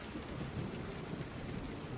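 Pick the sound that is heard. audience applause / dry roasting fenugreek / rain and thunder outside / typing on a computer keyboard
rain and thunder outside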